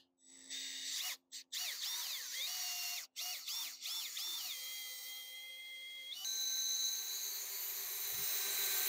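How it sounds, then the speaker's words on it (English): Cordless drill mixer stirring roof coating for a 1970s vintage camper roof, a close, loud whine with several stops and speed changes, then running continuously at higher pitch. "we've got our drill mixer"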